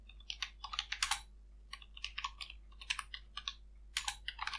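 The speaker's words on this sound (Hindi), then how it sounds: "इधर कुछ टाइप कर लेता हूँ मैं" Rapid keystrokes on a computer keyboard come in uneven bursts and short pauses, close and crisp over a faint steady hum, with no talk.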